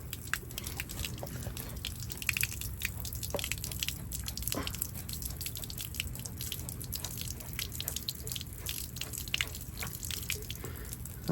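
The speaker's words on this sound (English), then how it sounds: "Oh, the other line started draining faster." Water draining and dripping from camper water lines, a continuous trickle with scattered close drips and small splashes, fairly quiet and steady with no talk.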